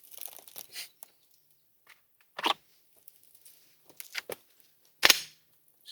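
Pistol shots crack at a Washington fighting-pistol class range as rounds hit C-zone steel targets at 55 yards. A few sharp, isolated reports are spaced seconds apart among quiet rustling, with no talk.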